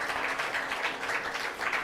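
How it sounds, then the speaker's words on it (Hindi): An audience at a devotional gathering for Lord Satyanarayan claps in dense, steady applause, fairly faint and even across its short span. "भगवान सत्यनारायण देव के लिए अद्भुत तालियां बजाना"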